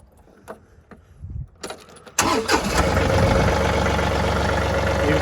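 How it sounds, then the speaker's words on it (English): A farm tractor fitted with a 307B backhoe starts up: faint clicks and cranking, then the engine catches abruptly and settles into a loud, steady, close idle that continues to the end. "To do this, you've got to turn on the tractor."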